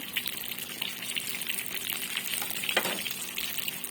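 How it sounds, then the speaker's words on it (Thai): Two whole tilapia frying in oil with fish sauce, a steady hissing sizzle with faint crackles and a brief louder spatter near the end, close and alone. "ทอดปลานิล ทุกน้ำปลานะคะ"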